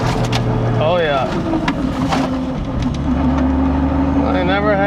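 A Toyota Supra MK4 with big upgraded brakes slows hard from 60 mph, its engine and road noise rumbling steadily under near, continuous talking from inside the car.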